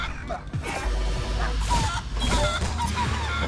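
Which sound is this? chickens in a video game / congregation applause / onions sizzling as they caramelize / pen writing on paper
chickens in a video game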